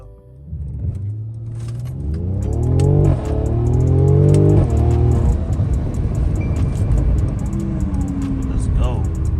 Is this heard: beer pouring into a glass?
no